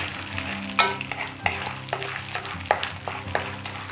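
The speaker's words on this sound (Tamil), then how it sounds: "இந்த முந்திரி வறுபடும் நேரம் தான்" Cashews fry in oil in a wok, a close crackling sizzle broken by several sharp scraping stirs of a spatula at uneven intervals, with no voices.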